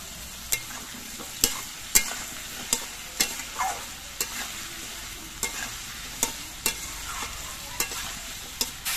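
Mixed vegetables fry in a pan with salt, slit green chilies and ginger paste, a constant sizzle broken by a regular rhythm of spatula scrapes and taps against the pan.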